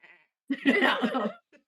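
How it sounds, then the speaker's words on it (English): A single wavering bleat, loud and close, lasting about a second after a brief faint voice, from a sheep tethered out on a plain. "And then suddenly the sheep stops bleating."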